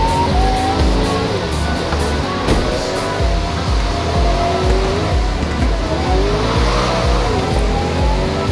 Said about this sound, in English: Look at that Pagani Zonda just overtook me.